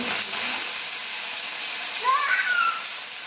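Mangoes, dried red chillies and mustard seeds sizzle in hot oil in a pan, with a steady broad hiss and a brief squeaky scrape near the end as the mango pieces are stirred.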